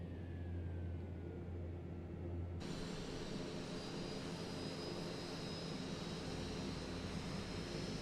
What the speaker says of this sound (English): we could use that to start up the second engine here